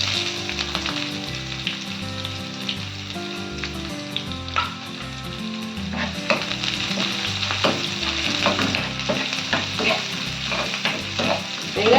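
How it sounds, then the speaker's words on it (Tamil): Finely chopped onion sizzles steadily with curry leaves in a pan for a spiny gourd dish, a close, continuous hiss with scattered crackles and occasional stirring scrapes, over soft background music. "ஒரு வெங்காயம் கட் பண்ணி நைஸாக வச்சுருக்கேன் இப்போ அதை ஆட் பண்ணிக்கலாம்"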